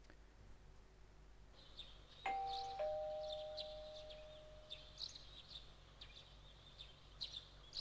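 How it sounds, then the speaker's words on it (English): A two-tone electronic doorbell chime in the video game Persona 4 rings once, the second note lingering and fading, over quiet background music with soft birdlike chirps. "Is that a doorbell?"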